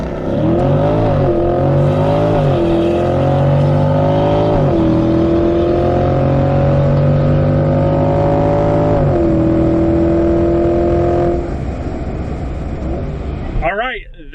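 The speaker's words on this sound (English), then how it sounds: "The car launched much harder" A 2020 Corvette launches down a drag strip with a loud engine roar that climbs in pitch through several gear shifts, then cuts off abruptly near the end.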